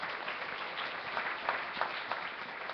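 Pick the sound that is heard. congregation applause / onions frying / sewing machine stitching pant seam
congregation applause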